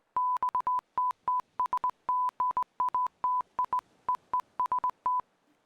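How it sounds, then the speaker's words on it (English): Morse code beeps in the video game Finding Paradise, a clean single-pitched tone tapped out in irregular short and long pulses, clear and isolated with no talking. "Morse code."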